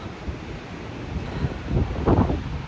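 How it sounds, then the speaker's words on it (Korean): Surf rolls in at Samyang black sand beach, a steady wash of breaking waves with wind buffeting the microphone, swelling louder toward the end, with no voices. "삼양 검은 모래 비치랍니다"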